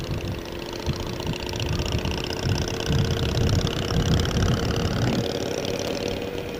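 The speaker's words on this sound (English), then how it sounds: "I can hear my bike over your intercom" A motorcycle engine idles and rumbles steadily as heard through a motovlogging helmet intercom on Oahu, Hawaii, a continuous muffled mid-range drone with wind-like hiss and no speech.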